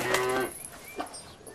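A cow moos once, a loud close bellow lasting under half a second, followed by faint quieter lowing and low background noise.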